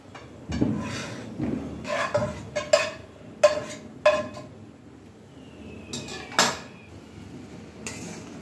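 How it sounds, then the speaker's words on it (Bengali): Cooked ingredients tipped from one wok into a wok of dal for sabudana khichuri, with a series of metallic clanks and scrapes of a spoon against the pans, moderately close, with no talking. "এই অবস্থায় আমি এই কড়াইয়ের সব উপকরণ এই ডালের কড়াইতে দিয়ে দিচ্ছি"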